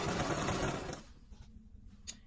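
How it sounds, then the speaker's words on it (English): A sewing machine runs in a loud, continuous burst stitching and backstitching a stretch Ankara fabric slouchy hat, then stops abruptly about a second in, leaving faint handling noises. "We are just sewing that all the way down."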